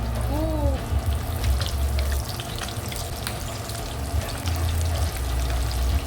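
Shanghai lumpia fry in reused oil, a continuous bubbling sizzle that fills the whole stretch, with a voice briefly audible at the start.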